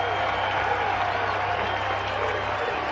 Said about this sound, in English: this crowd revs it up a little higher